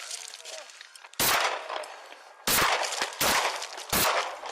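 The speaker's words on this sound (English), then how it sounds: "The officers continued to fire their service weapons at Rovey as he continued to point his gun in" Police officers fire their service weapons during a Phoenix body-cam shooting: four loud, sharp gunshots ring out in an irregular sequence, close by, amid a low, noisy background.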